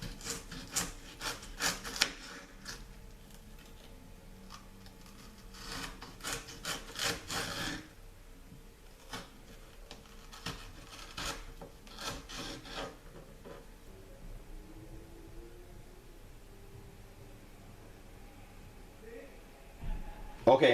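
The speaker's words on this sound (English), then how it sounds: "now I'm going to get a smaller knife and I'm going to cut them into french fries" Knife strokes slicing raw potatoes into fries on a cutting board, repeated in quick bursts with pauses between, close by and fairly loud.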